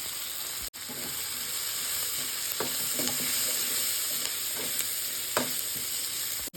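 Grated coconut and tomato frying in a hot pan for an omelette curry, with a continuous close hissing sizzle and occasional scrapes and stirs of a spoon against the pan, no talk.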